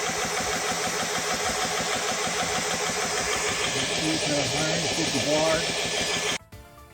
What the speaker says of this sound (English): the electric pump is effectively taking the PCP gun to 250 bar